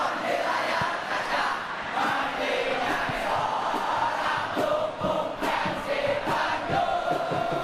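A football stadium crowd roars steadily throughout, a dense, loud wash of cheering and chanting from thousands of fans reacting to play, with no clear voice above it.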